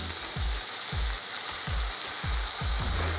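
Mushrooms with onion and sour cream simmer over low heat in a pan, a steady soft sizzle with a few rhythmic low knocks from stirring.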